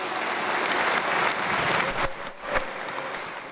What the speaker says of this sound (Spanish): ¡Aplausos a la gallina, por favor, que se oiga!